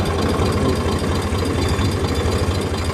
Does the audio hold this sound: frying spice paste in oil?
no